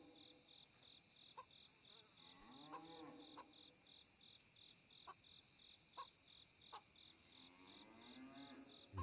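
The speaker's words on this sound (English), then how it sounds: "These cows are going nuts over here, though." Cattle mooing on a farm at night, several drawn-out low calls spread across the clip, set against a steady loud chorus of crickets and insects with no talking.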